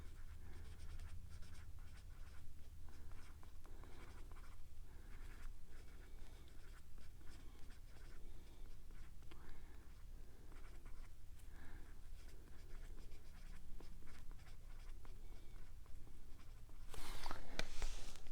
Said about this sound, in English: I'm going to write the name and star sign 3 times.